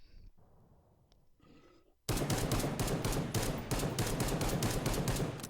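Rapid gunfire from Killing Floor 2 bursts in loud and dense after a quiet stretch with faint breathing, sustained shots continuing to the end.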